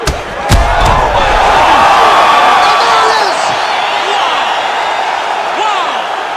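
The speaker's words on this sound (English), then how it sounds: "crowd loving it" Crowd cheering in a UFC arena in EA Sports UFC 5, a loud, steady roar with whoops that swells right after a fight-ending elbow and holds throughout.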